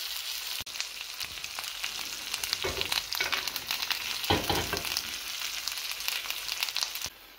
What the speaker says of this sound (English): And now we're going to wait about 1 minute and get that sear on the second side as well.